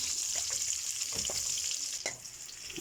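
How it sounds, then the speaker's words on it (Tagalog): Onions sizzle and fry in a pan as the base for adobong kangkong, a steady hiss broken by a few soft clicks of stirring, close and continuous with no talk. "gisahin natin ng ating sibuyas"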